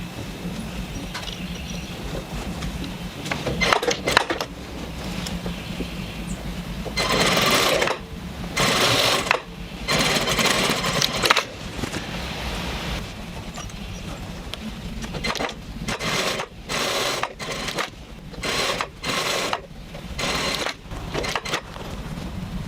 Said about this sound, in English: Now we're going to be sewing at our 1/2 inch seam allowance between these 2 notches